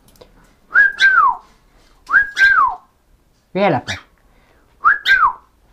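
A person whistles four short two-note phrases separated by pauses, imitating a bird's call, loud and close with little else around.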